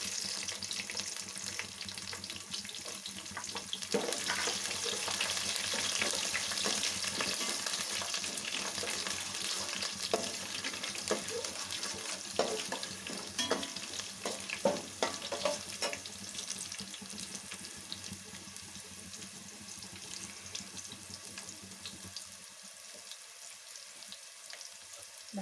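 Crushed garlic fries in a pan with a continuous hiss, a watery bubbling layered over it and faint stirring clicks, steady and close before easing off near the end.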